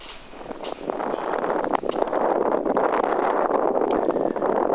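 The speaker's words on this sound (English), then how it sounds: "wind is about 15 miles an hour and it's really buffeting me from the right hand side" Wind of about 15 miles an hour buffets a microphone outdoors on a livestock farm, making a loud, continuous rumbling roar that swells and holds steady.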